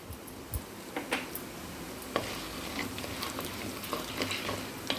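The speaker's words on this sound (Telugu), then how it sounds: "ఇవి లైట్గా ఫ్రై అవ్వాలి ఇవి కొంచెం వేగుతున్నప్పుడు దీనిలో ధనియాలు వేసుకోవాలి" Chana dal and coriander seeds lightly frying in a pan for chow chow (chayote) chutney, a soft steady sizzle with scattered crackles and pops, close and fairly quiet, with no voices.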